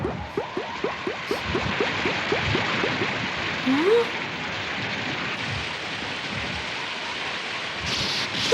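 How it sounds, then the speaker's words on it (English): Steady rain pours down in a broad continuous wash, with a few sharper splashes near the start and one brief tonal squeak midway. "It's raining!"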